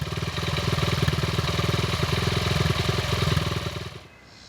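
Worn 48-year-old Honda XR75 motorcycle engine burning oil, running with the choke partly closed: a rapid, steady close-up putter that cuts out abruptly near the end.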